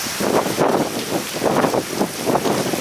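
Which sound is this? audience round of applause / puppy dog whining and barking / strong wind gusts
strong wind gusts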